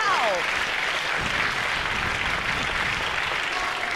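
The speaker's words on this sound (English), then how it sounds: "It's so great to see all the fans just cheering in unison, just out of appreciation." Wrestling crowd at a Newcastle show applauding and cheering, a sustained wash of clapping and crowd noise filling the hall, with a brief rising whistle at the start.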